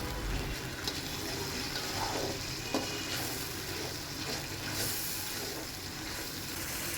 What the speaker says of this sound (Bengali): এবার সামান্য পানি দিয়ে